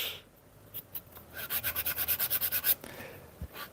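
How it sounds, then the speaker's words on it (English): Rhythmic back-and-forth sanding of a leather edge in a workshop, about a dozen quick even strokes building in the middle then stopping, close and clear with a brief scratch afterward. "Listening to you sanding is like ASMR."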